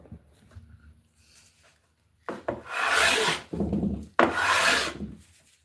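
A hand plane scrapes across 100-year-old wood in two firm, close strokes, each a loud rough rasping sweep lasting about a second, after a few faint taps and shuffles.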